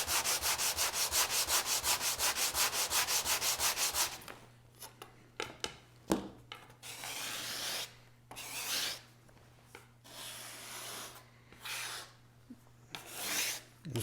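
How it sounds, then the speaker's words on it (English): Sheets of 80 grit sandpaper rub across MDF in a workshop. Fast, even back-and-forth strokes come first, then slower irregular scrubbing passes follow, close and fairly loud, with no voices. "And this is 80 grit sandpaper."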